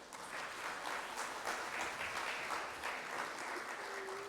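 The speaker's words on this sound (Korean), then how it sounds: "박수 한번 쳐주시면 감사하겠습니다" Steady applause from an audience at a government research briefing fills the room, a dense, even patter of many hands clapping at moderate volume with no break.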